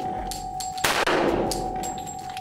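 A Hi Point pistol fires during a sand torture test: one sharp, loud close shot with a metallic clang, amid faint ringing and outdoor background noise, over about two seconds.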